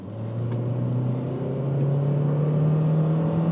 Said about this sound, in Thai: อัตราเร่งดีใช้ได้เลยเห็นไหม เปลี่ยนเกียร์สมูทมากนะครับ เพราะว่าเป็น CVT นะครับ